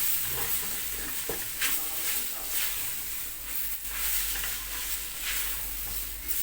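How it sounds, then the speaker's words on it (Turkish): Flour being roasted in a pan with squash and potato for Karaman-style squash soup, making a continuous soft sizzle and hiss with occasional stirring scrapes, close and steady, no voices. "Şimdi un güzel kavruldu."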